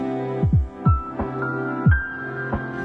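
A Pfaff Passport 2.0 sewing machine stitches fabric close by with a steady motor hum. Several low, thumping pulses come as it runs in short bursts and stops. No one speaks.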